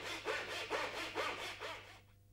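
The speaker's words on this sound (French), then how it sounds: "vous devrez découper la première dans le sens de la longueur en conservant la partie rainurée" A hand saw cuts a wooden paneling board lengthwise in four or five steady back-and-forth rasping strokes, close and fairly clear, then stops, leaving a faint low hum.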